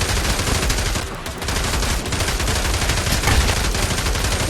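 Continuous rapid gunfire crackles loudly throughout in the VR game Pavlov VR, dense bursts of shots with video-game action sounds and no pauses.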